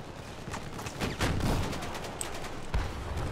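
Gunfire in Battlefield 4 on PC, with a dense crackle of distant shots and a sharper nearby report near the end, heard alone with no talking.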